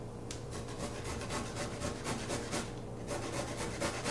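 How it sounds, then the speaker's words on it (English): A fresh carrot is grated by hand in rhythmic, scraping rasps, close and fairly quiet, one stroke after another with no pause. "So to start, we're gonna grate our carrot."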